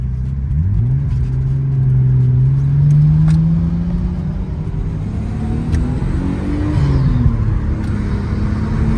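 A tuned Nissan Skyline accelerates on a busy road, its engine note rising steadily in pitch through a gear, dipping at a shift, then climbing again, loud and close with a constant low rumble.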